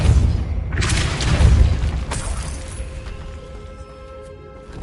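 A Repulsor spell impact in Hogwarts Legacy lands as a loud, booming thud with a crashing burst, then fades into a softer, lingering rumble and magical shimmer.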